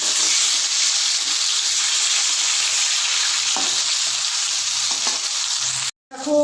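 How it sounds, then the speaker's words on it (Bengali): Fish pieces sizzle loudly and continuously in hot oil, with faint scraping as they are turned over and a brief sudden drop near the end. "এবার আমি আস্তে আস্তে করে উল্টে দেবো অপর পিঠটা ভাজা হওয়ার জন্য"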